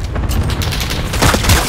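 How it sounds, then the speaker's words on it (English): Airstrike explosions in a Call of Duty Search and Destroy match, loud rolling booms and crackling blasts piling up over under two seconds, with no voices. "See, my airstrikes are killing people"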